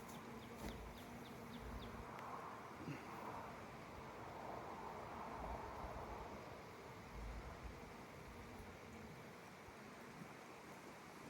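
Honeybees buzz steadily around an open apiary hive during an inspection after second brood boxes were added, a dense continuous drone close by with faint clicks of handling and no talk.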